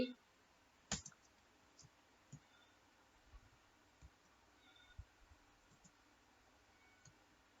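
Quiet, sparse computer keyboard keystrokes tap out irregularly, one sharp click near the start followed by scattered softer taps in a still room.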